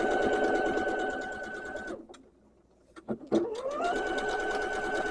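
Sewing machine stitching a Japanese fabric quilt, a steady close mechanical whir that stops for about a second, gives a few clicks and knocks, then starts up again and keeps running.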